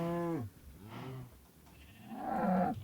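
Sheep bleats from Minecraft Bedrock Edition: one long wavering bleat, then a softer shorter one and a louder bleat near the end, close and clear with no talking.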